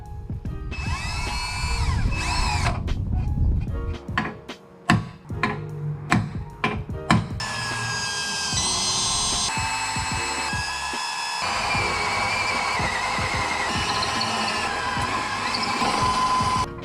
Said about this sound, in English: The little centerpiece that's supposed to keep the drill bit on target slipped out